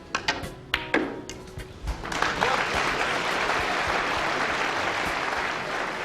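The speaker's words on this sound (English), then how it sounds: "I remember to this day the cheer that went up in the audience" Snooker audience breaking into applause after a tense shot, starting with a few separate claps that quickly swell into sustained, dense clapping with some cheering, steady and loud until the end.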